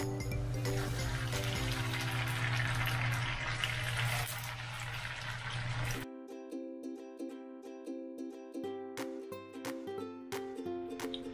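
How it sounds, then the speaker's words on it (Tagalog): Tofu sizzles and crackles as it fries in oil in a pan: a loud, dense hiss at first, then it thins to sparse, steady popping and spitting close by, with no talking. "So ito, iprito na po natin."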